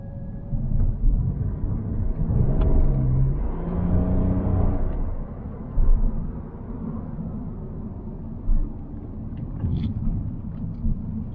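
A low, steady hybrid car engine rumble with road hum as the engine charges the battery while driving, running continuously at moderate loudness, faint knocks now and then.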